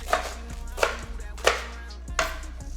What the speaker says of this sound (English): Now we have some culantro. Same thing, chop it up into small pieces.